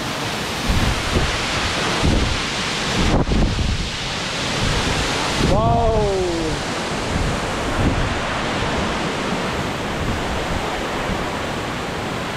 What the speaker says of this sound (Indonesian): di bawah air terjun